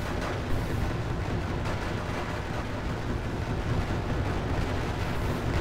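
Artillery barrages and explosions in the Wargame AirLand Battle strategy game, heard as a continuous loud rumble of booms and blasts with no clear gaps.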